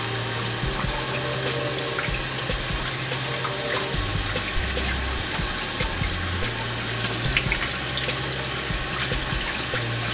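Steady running tap water while a makeup brush is washed under the faucet, a continuous close splashing hiss that holds level for the whole stretch, with no talking.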